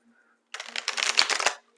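Tarot cards are shuffled in a single quick riffle, a close, crisp flurry of fluttering card edges lasting about a second after a short silence.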